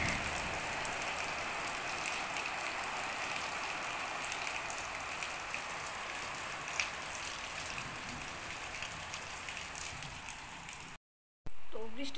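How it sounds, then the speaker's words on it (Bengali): The season's first rain comes down outdoors in a steady, moderately loud patter, broken by a brief dropout near the end. "দেখো দেখো বৃষ্টি নামছে"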